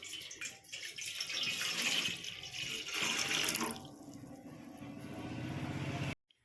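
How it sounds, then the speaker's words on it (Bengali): Tap water runs steadily into a basin, filled to steam pradeep pitha, with the pitch shifting as the level rises. The flow continues until it stops abruptly just before the end. "প্রদীপটা সেদ্ধ করার জন্য আমি গামলাতে জল দিয়ে দিচ্ছি।"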